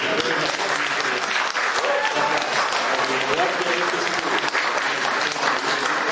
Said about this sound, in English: big round of applause for our friends here